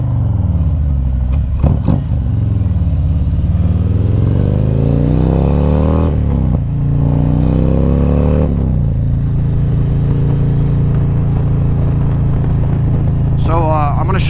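A 2020 Harley-Davidson Street Glide CVO motorcycle with upgraded front suspension rumbles steadily while riding, its engine note rising and easing, with someone talking over it throughout.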